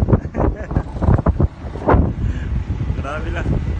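Strong mountain gusts on Jebel Jais buffet the microphone with heavy, low rumbling, while a person talks through the roaring wind outdoors.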